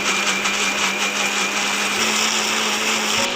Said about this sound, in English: So guys, now blend it.